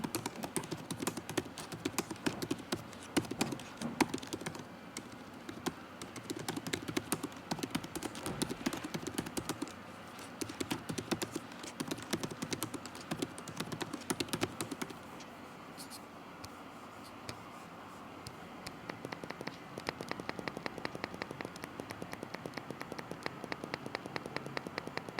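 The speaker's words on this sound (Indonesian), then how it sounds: "hasil tes keyboard dan juga touchpad dari laptop ini" Rapid, continuous clicking of typing on an Acer Swift 14 AI SF14-61T-R4QP laptop keyboard and touchpad, close and steady throughout, with the tapping growing a little softer and sparser in the second half.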